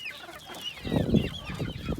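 Indian game roosters and chicks clucking close by, a dense overlapping flock of short clucks and squawks that grows louder midway.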